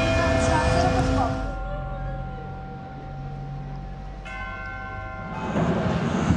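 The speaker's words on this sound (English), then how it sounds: "And there's the bells ringing." Church bells in Andorra ring out at 12:30 with sustained, overlapping tones that swell, fade, then strike again, with some background rumble.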